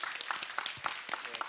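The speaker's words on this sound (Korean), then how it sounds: "여러분 박수 한번 부탁드립니다." Faint, scattered audience clapping at a Daegu citizens' round-table meeting, a patter of hands under a soft room murmur.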